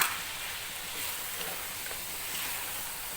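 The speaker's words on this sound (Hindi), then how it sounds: "तो अब हम इसमें डालेंगे तकरीबन 3 या 4 टेबल स्पून दही के" Yogurt spooned into spices frying in oil for an aloo gobi chicken curry gives a steady, soft, broadband sizzle that holds evenly throughout, with no voices.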